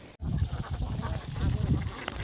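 Several ducks quack loudly and close by on a duck farm rearing common ducks, a dense overlapping run of rough, nasal calls with no pause.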